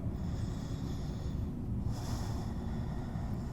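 A person breathing during a yoga warm-up, with a long breath and a hissing exhale in the middle over a steady, loud background rumble.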